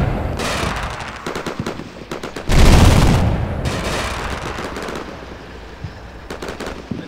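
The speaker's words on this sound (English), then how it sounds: "check the fire of that autocannon before it accidentally lights up my maneuvering pioneers" Rapid bursts of autocannon fire from the Combat Mission Shock Force combat game rattle out loudly, with a heavy boom midway and scattered further shots fading toward the end.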